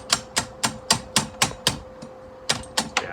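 A small chisel knocks a bad weld off a broken metal stool with a steady run of about a dozen sharp metallic taps, close and evenly spaced. There is no talking.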